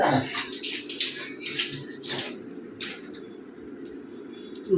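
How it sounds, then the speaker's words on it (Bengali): Tap water runs steadily as hands are washed in a home kitchen during prawn cooking, with a broad, even splash and a few louder bursts of water hitting the hands. "ও হাতটা ধুতে হবে"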